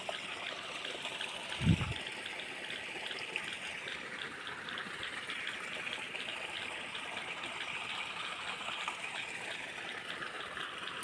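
Rain-swollen river water runs steadily after the monsoon onset in rural Konkan, a continuous broadband rush with one brief low thump near the start and no talk.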